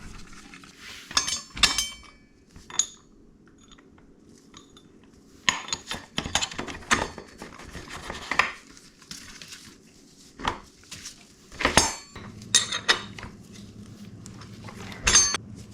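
Brake rotor and bolts being fitted loosely to a CRF150R wheel: scattered metallic clinks and clatters of parts and bolts being handled, in short bursts separated by quiet gaps.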